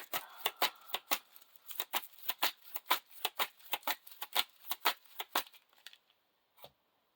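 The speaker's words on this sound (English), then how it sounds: "Shuffle this back into the encounter deck." Rapid riffling of playing cards as a Lord of the Rings card game encounter deck is shuffled, a quick series of crisp flutters and snaps close by, with a final lone tap after a short pause.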